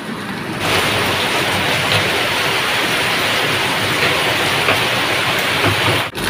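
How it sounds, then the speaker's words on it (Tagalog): Heavy rain pours down hard and loud in a continuous, even hiss that drums on surfaces nearby, with no voices and a brief dip right at the end. "Lakas ng ulan, grabe guys."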